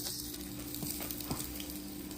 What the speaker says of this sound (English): frying an egg here for himself.